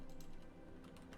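A short run of keystrokes on a computer keyboard during a session of the game Onigiri, several quick taps close by over a constant background bed.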